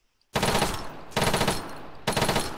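Three loud, sustained bursts of automatic rifle fire in ArmA 3, the rounds punching through a wall, each burst about a second long with brief gaps between, close and without talk.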